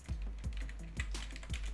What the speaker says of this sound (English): So I'm typing clean text